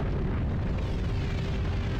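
A big explosion destroys the Horrorland theme park in the Goosebumps: Escape from Horrorland video game, a dense, steady roar of blast and rumble that fills the whole two seconds without letup.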